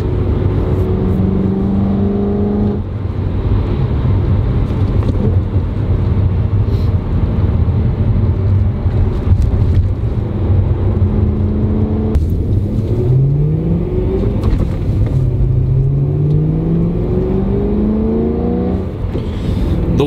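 A BMW E92 M3 engine drives and revs at fairly low RPM, a loud, close, continuous drone whose pitch climbs and falls through repeated gear changes, with no other sounds over it.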